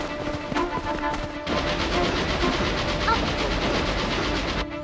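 A train rumbling along the rails with a loud, continuous mechanical roar and rhythmic clatter, briefly interrupted near the start, with faint shouting mixed in.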